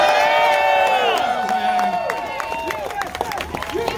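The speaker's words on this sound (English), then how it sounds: "Let's give a round of applause to the veterans." A rally crowd cheers and applauds for veterans, loud whoops and shouts layered over scattered clapping that builds through the moment, with voices calling out throughout.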